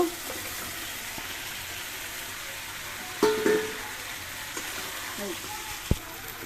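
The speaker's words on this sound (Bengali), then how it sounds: "এখন দিয়ে দেব কাঁচামরিচ, তারপরে ভেজে রাখা কচুগুলো দিয়ে দেব" Taro and green chillies fry in a spiced masala, a steady soft sizzle running throughout with a few brief clinks and stirs standing out near the middle and end.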